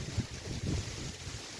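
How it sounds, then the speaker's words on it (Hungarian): Steady wind blows from behind while fishing by the water, buffeting the microphone with a continuous low rumble and gusty swells across the whole moment, with no voices. "Szerencsére hátulról fúj a szél"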